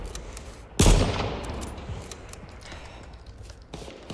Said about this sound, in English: So we got the sniper rifle now.